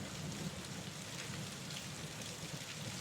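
Steady rain falls without pause, a dense even patter forming a calm backdrop for a horror story, with no voices or other sounds.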